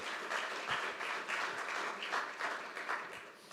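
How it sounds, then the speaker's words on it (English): An audience at a fisheries and aquaculture policy conference gives a warm round of applause, steady clapping from many hands that lasts about three seconds and fades slightly at the end. "Warm round of applause for Brian."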